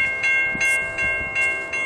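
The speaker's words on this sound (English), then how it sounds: "Amtrak coming down." Amtrak 4619 passenger train passing through Effingham, Illinois, heard close with steady rail rumble and repeated rhythmic clanks and hisses, each pulse rising every half second or so, with no talking.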